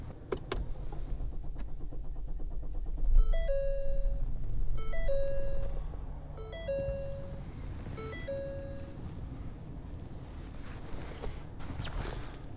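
Car out of gas being cranked to start, with a repeating electronic warning chime sounding several times in a steady pattern over a quieter engine-crank and cabin background.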